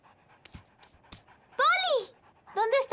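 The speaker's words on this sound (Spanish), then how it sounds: "¡Ay, un perrito!" A small puppy pants in quick, close bursts between clicks and thumps in a cartoon scene, with high-pitched chattering voices overlapping the breathing.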